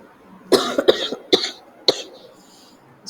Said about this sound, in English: that's why you're getting continuously disturbed by my cough